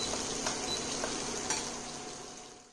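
Chicken wings frying in a pan give off a steady, fairly quiet sizzle with a soft hiss throughout and a couple of faint pops, with no talking.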